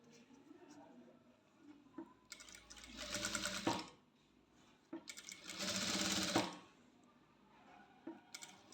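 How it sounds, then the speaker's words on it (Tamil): Domestic sewing machine running a single line of stitching along the turned neckline of a maxi dress top, in two sustained whirring bursts separated by short pauses and quiet handling sounds. "இப்போ நான் ஒரு சிங்கிள் தையல் தான் போட போகிறேன்"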